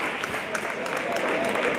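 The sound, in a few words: applause from the Unión de Ezpeleta supporters at a futsal match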